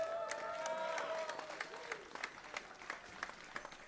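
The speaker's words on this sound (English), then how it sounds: "Give him a round of applause." Audience applause at a senior recital, steady clapping at moderate distance that thins into scattered individual claps, with voices mixed in early.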